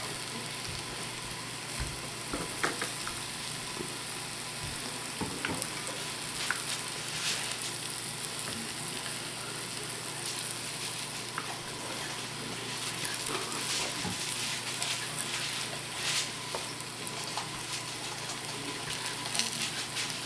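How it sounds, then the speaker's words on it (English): Pork brains fry in a pan with a steady, close sizzle and crackle and occasional small pops, continuous for the whole stretch with no talking. "I'm going to fry them till they're golden brown."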